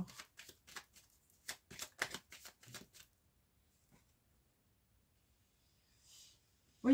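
Tarot cards riffled and cut by hand, a quick run of crisp shuffling bursts in the first few seconds, then near silence with a faint thump at the end.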